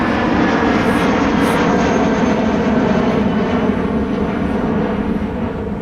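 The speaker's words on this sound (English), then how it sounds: "as we watch our United departure climbing out" A United jet airliner departs and climbs out at a busy airport, its engines giving a steady, loud roar that fills the whole clip without letup, with no talk over it.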